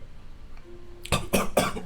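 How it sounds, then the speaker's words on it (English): A woman coughing while drinking water, a short burst of three or four close, harsh coughs after a quiet moment. "she's like coughing on the water"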